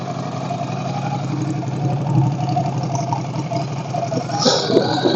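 An air-cooled L-twin engine on a Ducati Scrambler 1100 Sport Pro motorcycle idles steadily with an even, pulsing low thrum, close by and fairly loud, with no talking.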